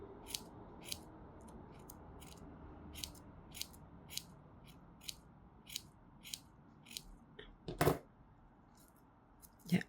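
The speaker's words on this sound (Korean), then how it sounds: "여기 이 부분까지 가위밥을 줍니다." Scissors snipping ivory paper in short, evenly spaced cuts, a series of crisp close snips at a steady slow rhythm against a quiet background, with one heavier rustle near the end.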